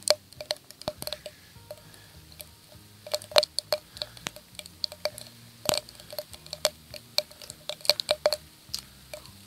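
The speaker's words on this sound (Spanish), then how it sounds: "Está lloviendo bastante, como veis, está levantando un temporal" Heavy rain falls in a storm at a trout river in Castilla y León, pattering and drumming in many sharp, irregular drops close by over a low steady background.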